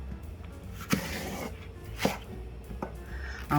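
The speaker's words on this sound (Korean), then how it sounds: "그냥 청양고추 칼칼하게 2개 정도 크게 썰어주세요." A knife chops Cheongyang chili peppers into large pieces on a cutting board, with three or four sharp, isolated knocks spaced about a second apart over faint kitchen background.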